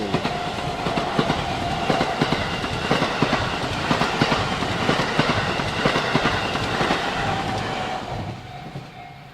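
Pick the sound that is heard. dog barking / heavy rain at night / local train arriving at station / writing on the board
local train arriving at station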